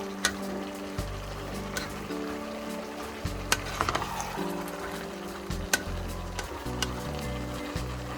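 Minced pork stir-fries with carrots, chayote and potatoes in a pan, giving a steady sizzle broken by scraping clicks from stirring, over a low droning background tone.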